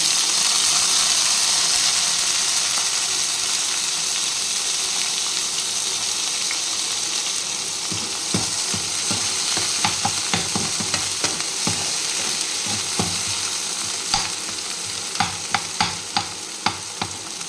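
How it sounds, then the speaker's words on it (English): Pork frying in a pan, a steady hiss of sizzling fat with increasingly frequent scraping clicks of a utensil stirring toward the end, no speech. "First fry kuri pork."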